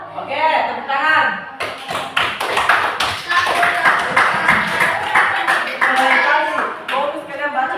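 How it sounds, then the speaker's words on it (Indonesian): Classroom students clap their hands together in a dense burst of overlapping claps, close and lively, mixed with voices talking throughout. "Oke, tepuk tangan."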